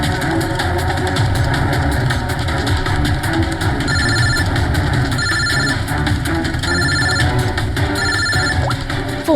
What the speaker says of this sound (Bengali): ফোন আসছে দাদা।